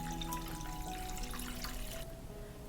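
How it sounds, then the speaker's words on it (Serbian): Water pours steadily into a cooking pot lined with a cloth and packed with glass jars of tomatoes for pasteurizing, a continuous close splashing rush with faint ringing tones that thins out near the end. "Isipat ću vodu u šerpe do visine poklopca."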